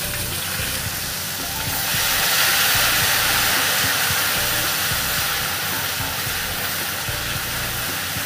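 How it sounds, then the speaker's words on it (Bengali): Black cumin seeds and a dried red chili sizzle in hot oil as a tempering for taro greens cooked with fish head. A loud, steady hiss holds for the whole stretch and swells slightly near the middle. "তার জন্য কালো জিরে ফোড়ন দেবো আর একটা শুকনো লঙ্কা দেবো"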